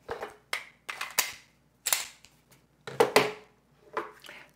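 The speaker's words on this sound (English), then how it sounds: "You're just gonna put the slide back on and it automatically rotates back in and it's locked." A Taurus GX4 Carry pistol slide is put back on and locks into place, a series of sharp metallic clicks and clacks in uneven bursts, close and fairly loud, with no talk.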